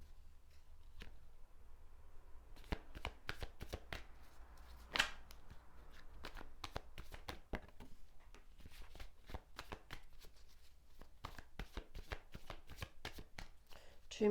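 A large Tattoo Tarot deck is shuffled by hand, producing a steady run of quick, crisp card riffles and slaps, close and fairly quiet, with no talking.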